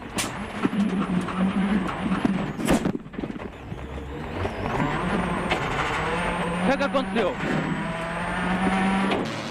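A 2007 WRC rally car spins out on a special stage, its engine droning and revving steadily throughout with bursts of tyre noise, loud and close, while commentary carries on over it.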